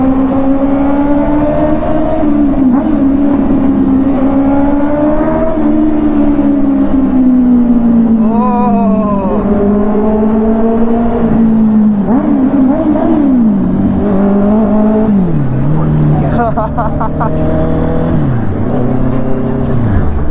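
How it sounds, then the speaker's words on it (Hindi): A loud Honda CBR650R motorcycle engine drones steadily for a long stretch, its pitch rising and falling as it revs up and eases off, close by and continuous. "मजा आ गया भाई क्या साउंड हो रहा था बाइक का।"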